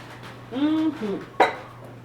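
A ceramic coffee mug is lifted and set against a hard surface, giving a couple of short, bright clinks with a faint ringing tone, close by in a quiet room.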